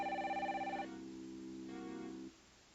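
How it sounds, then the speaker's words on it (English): A cartoon telephone rings with a bright electronic warbling tone that shifts to a lower sustained pitch before cutting off, heard alone and moderately loud. "Telephone."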